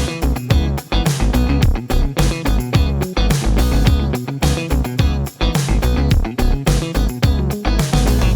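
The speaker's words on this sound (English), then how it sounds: "you could add a single note rhythm guitar part as well, and it might sound a little bit like this" A single-note rhythm guitar line plays within a full band arrangement, with steady drums and bass driving a tight, repeating groove at constant loudness, with no talking.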